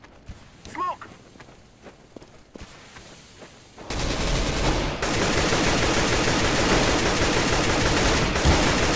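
Counter-Strike: GO gunfire starts quietly among footsteps and scattered shots, then becomes a loud, sustained burst of rapid automatic fire that carries on to the end, with people talking over it.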